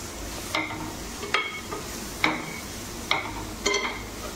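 Shredded jackfruit curry in Konaseema style with mustard is mixed in a pot. About five distinct scraping strokes of a spoon sound over a low, steady background.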